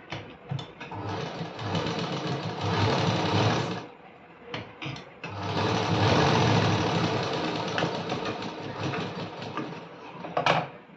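A sewing machine stitches through folded layers of cloth in two long, steady runs split by a brief pause, with a short burst at the end. It is close and loud, with no talk.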